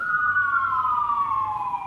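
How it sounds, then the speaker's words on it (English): An emergency vehicle siren passes outside, a single steady wailing tone that slowly drops in pitch over two seconds, moderately distant with faint road noise beneath. "Sirens. Love that sound in the morning."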